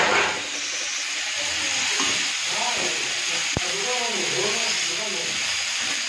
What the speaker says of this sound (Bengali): আর এদিকে দেখো কলমি শাক ভাজা হচ্ছে।